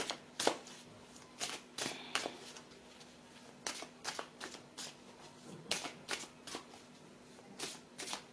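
Tarot cards are shuffled and drawn in quick, crisp bursts of riffling and snapping, about a dozen sharp flurries at an irregular rhythm. A faint steady hum sits underneath.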